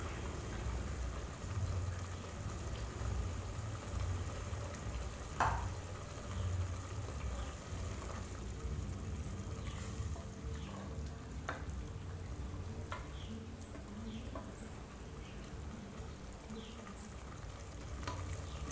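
Onion-tomato masala sautéing in oil over medium heat for biryani makes a soft, continuous sizzle with scattered spatula scrapes and clicks throughout.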